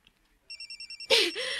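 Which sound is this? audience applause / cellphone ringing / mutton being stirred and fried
cellphone ringing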